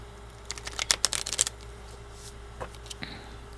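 A quick riffle of tarot cards being shuffled, a dense flurry of crisp snaps, followed by a few lighter taps and quiet.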